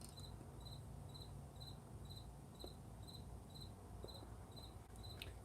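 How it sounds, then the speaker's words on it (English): Crickets chirp outdoors at night in a steady rhythmic pulse of evenly spaced trills, faint and distant over a low background rumble of far-off traffic. "Yeah, you can hear the crickets."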